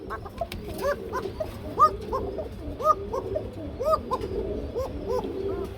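Koka pigeons cooing in a loft, repeated rhythmic deep coos from several birds at close range, with faint background noise.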